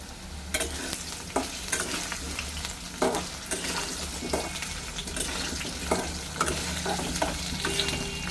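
Potatoes frying in refined oil in a pan give a steady sizzle throughout, with repeated scraping stirs at irregular intervals, close and moderately loud, and no talking.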